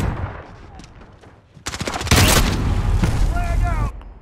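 A missile launches in a military shooter video game, a sudden roaring blast midway that sustains as a loud, dense rumble, with radio-style voices chattering before and around it.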